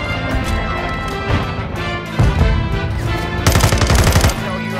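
Rapid bursts of close, loud gunfire in a video game, with automatic fire rattling over a busy mix of game sounds.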